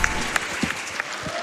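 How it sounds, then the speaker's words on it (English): Brief scattered audience applause at a live gaming marathon event, a few sharp claps heard close and fairly faint over a low background murmur. "Let's keep that round of applause going"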